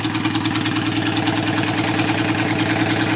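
A motorcycle engine idling with a steady, even low throb and rapid regular pulsing, close and continuous throughout with no voices.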